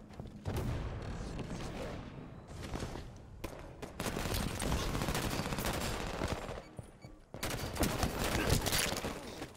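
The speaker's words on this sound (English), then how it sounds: "he's spamming me with the SMG" Rapid SMG gunfire from a Halo 5 firefight match, dense bursts of automatic shots running almost continuously with brief gaps, loud and close with other gunfire layered in.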